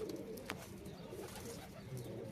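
Two white-eyed Teddy pigeons in a breeding room give soft, faint, low cooing at a distance, with no talk.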